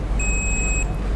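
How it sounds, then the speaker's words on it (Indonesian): A single high, steady electronic beep from a continuity tester checking a contactor switch on a lathe's electrical system, clear and close, lasting just over half a second. "itu bunyinya beep kayak gitu ya"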